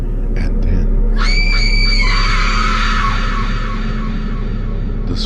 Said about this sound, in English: the scream was from Victor's wife.